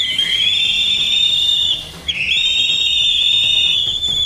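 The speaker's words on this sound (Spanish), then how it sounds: "¿Qué suena el silbato?" A whistle is blown twice in a row, loud and shrill, each a long sustained blast with a brief dip between them, with no talking over it.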